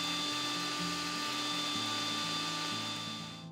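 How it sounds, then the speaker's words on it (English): A steady electric motor whirs loudly throughout as an electric grinder grinds dry spices, its pitch shifting slightly as the spices grind inside, then slowly winding down at the end. "Let's grind up the dry ingredients into a fine powder"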